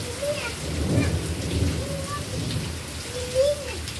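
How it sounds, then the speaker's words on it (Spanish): Heavy rain pours steadily over a broad wash of noise, with low rumbling that fits distant thunder, while voices talk briefly in the background. "vamos a esperar que llueva todo lo que tenga que llover y ya"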